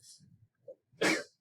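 A single sharp sneeze bursts out near the end, preceded by a soft intake of breath and a brief vocal catch; close and fairly loud.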